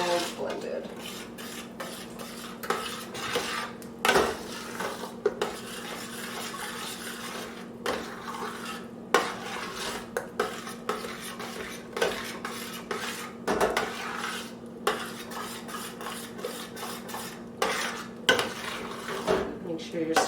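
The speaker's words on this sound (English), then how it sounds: "You can throw in a little Parmesan, a little extra. Just going to mix that until it's all blended." A spoon stirs baked macaroni and cheese with extra Parmesan in a metal pot, giving a steady run of scraping and clinking against the sides and bottom, with occasional sharper knocks and no talking.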